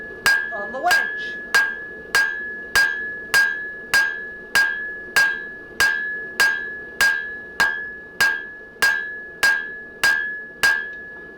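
A hammer strikes hot metal on an anvil while forging an anvil stump band, ringing loud and close in an even rhythm of about one and a half blows a second, with a clear bright tone after each hit.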